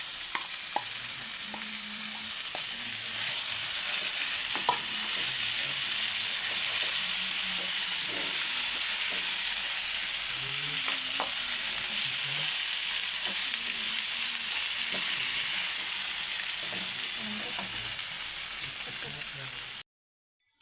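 Turmeric sizzles in hot oil during tempering, a steady close hiss and crackle that holds level for about twenty seconds and then cuts off abruptly.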